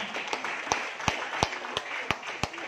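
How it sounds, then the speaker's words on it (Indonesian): Audience clapping for skincare products (night cream, day cream, lip matte) at a marketing plan presentation: a modest, fairly sparse round of applause with distinct individual claps, plus faint talk in the room. "Aplaus dong untuk skincare"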